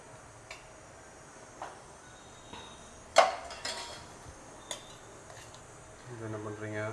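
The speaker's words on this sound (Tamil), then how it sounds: "என்ன பண்ணுறீங்க? கிண்டுறீங்களா? ஆமாம்." Spoon clinks and taps sparsely against a vessel while jaggery appam batter is stirred, quiet knocks with one sharper clang and a soft scrape near the end.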